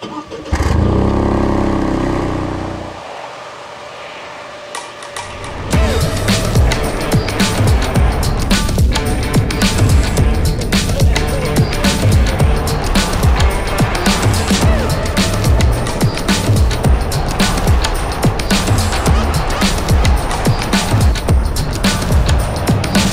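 An updated Toyota GR Yaris hot hatchback idles briefly, then its engine drives loud and close for a long continuous stretch, with the engine note and road noise steady and dense throughout.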